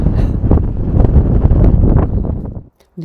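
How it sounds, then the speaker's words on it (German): Icy cold wind gusts loudly against the microphone on a snowy Continental Divide Trail section in Colorado, a rough continuous buffeting that drops away abruptly near the end. "Es bläst hier eiskalter Wind."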